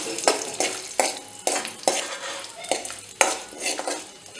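Red chillies and spices dry roasting in a pan, stirred with a utensil in a steady rhythm of about eight sharp scraping strokes, close and moderately loud with no voices.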